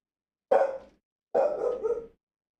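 A dog barks twice, a short bark followed by a longer drawn-out one, fairly close and alone with no talking.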